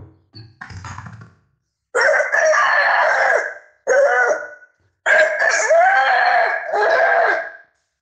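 A stage performer at a cultural arts festival imitates a rooster crowing with his voice, giving several loud, drawn-out crows with pauses between them after a short throaty lead-in.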